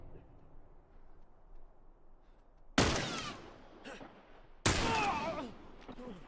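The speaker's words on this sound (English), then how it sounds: "That was a rifle." Two loud rifle shots in The Last of Us, each a sharp close crack with a long rolling echo, a couple of seconds apart over a quiet background.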